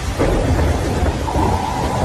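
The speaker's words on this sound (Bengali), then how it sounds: "অন্ধকারে বিদ্যুতের গর্জন" A storm rumbles with deep rolling thunder over a constant hiss of heavy rain, dense and loud without pause.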